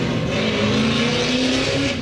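A Pro 2 drift car's engine revs hard and steadily during a qualifying run in Texas, a loud sustained roar with no pause and no voices over it.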